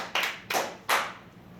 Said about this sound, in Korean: 그래도 우리 아버지한테 박수는 쳐드려야 돼